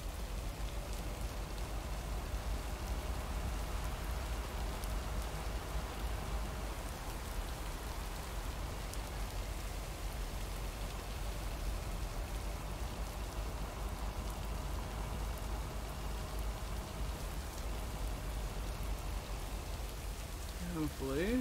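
Steady rain falls in the video game Lake, a dense continuous patter of drops on surfaces that holds at an even level throughout.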